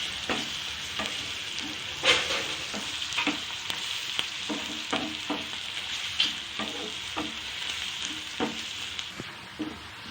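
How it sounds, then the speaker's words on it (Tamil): Onions sautéing in hot oil until brown, a steady close sizzle broken by regular scrapes and clicks of a spoon stirring the pan. "நல்லா வதங்கணும். ப்ரௌன் கலராக வரணும் இந்த வெங்காயம்."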